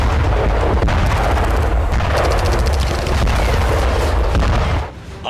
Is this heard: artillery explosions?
yes